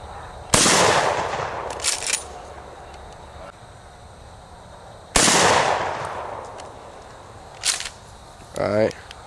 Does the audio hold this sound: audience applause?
no